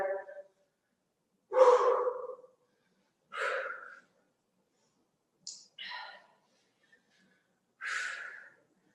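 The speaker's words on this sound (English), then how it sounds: "Work that breathing pattern." Heavy, forceful breaths during kettlebell jerk conditioning, about five sharp exhales spaced roughly two seconds apart with silence between, close to the listener.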